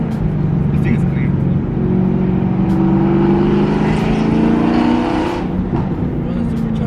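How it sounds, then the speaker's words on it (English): Supercharged 900hp Camaro ZL1 engine running loud and close, a steady rising whine layered over the exhaust rumble, with voices talking over it throughout. "the supercharger on this shit sounds so crazy"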